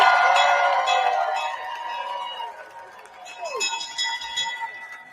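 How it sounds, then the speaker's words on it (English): A fire-station-style bell rings loudly at the New York Stock Exchange, a bright sustained clang fading over several seconds amid crowd chatter and cheering. "they had like a fire station type bell instead of the bell"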